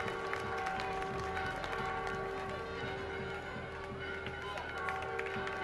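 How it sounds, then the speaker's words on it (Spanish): Faint, distant crowd applause during a religious procession (romería) in Villa Hidalgo, Jalisco, blended into steady outdoor crowd noise while an announcer's voice talks over it. "Fuerte el aplauso."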